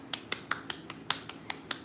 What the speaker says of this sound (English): So let me clap for myself